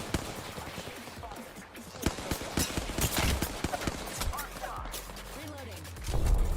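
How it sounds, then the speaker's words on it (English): Gunfire in the battle-royale video game Apex Legends crackles in rapid bursts and scattered shots, some close and punchy, others farther off, mixed with game effects and occasional talk. "That's why he's shooting at him."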